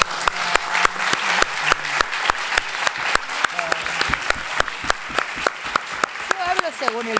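Audience claps at the close of a university lecture, with sharp, fairly spaced hand claps rather than a dense roar, and voices speaking underneath throughout.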